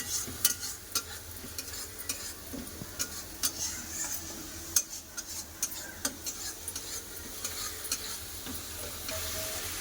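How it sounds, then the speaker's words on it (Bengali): Ground spices with chili powder, cumin and turmeric sautéing in oil in a pan for an egg and potato curry, giving a soft steady sizzle with scattered ticks and scrapes of stirring throughout. "লঙ্কা গুঁড়ো ভালো করে এবার কষে নেব সব মশলা দিয়ে দিয়েছে গুঁড়া মশলা ভালো করে কষে নেবো"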